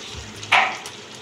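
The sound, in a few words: chicken fry masala being stirred in a hot pan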